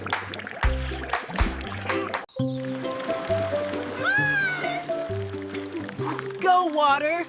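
Water gurgles and splashes through a homemade tomato irrigation system in short pouring bursts, with music and a playful voice over it.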